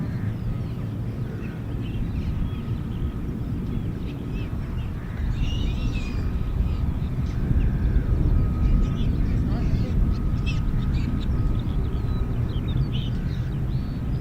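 F-35B fighter jets start up at an air station in a low, rumbling engine drone that swells partway through, with a faint whine and scattered bird chirps over it.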